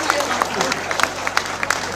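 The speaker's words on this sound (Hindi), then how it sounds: "तालियां बढ़िया से" Audience at a Hindi comic poetry show in Gonda applauds with a brief burst of clapping that stays loud and steady for about two seconds, with crowd murmur underneath.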